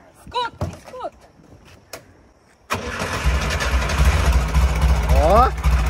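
A VW Beetle fitted with a Camaro exhaust starts up and settles into a loud, rumbling idle, after a few short voices and a door-like thump, with a brief voice over the running engine.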